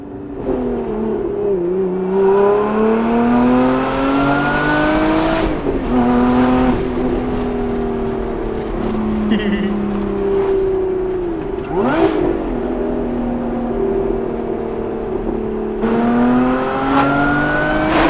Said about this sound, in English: Supercharger like mixed with the exhaust noise is so fun.